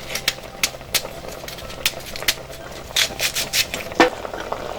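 Sharp knife chopping through half an onion on a board for Nigerian stick meat, a series of crisp, fairly close cuts in uneven rhythm, some quick bursts, over a faint kitchen background.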